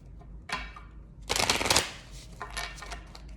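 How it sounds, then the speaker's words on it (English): A deck of tarot cards is shuffled close by in a few quick riffling bursts: a brief flutter, then a longer crisp cascade, then a softer final riffle. "I'm going to give the angels one last shuffle here."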